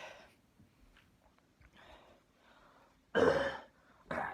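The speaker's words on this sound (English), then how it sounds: "Gets over the cough there" A couple of sharp coughs burst out near the end, close and loud, after a stretch of quiet shuffling.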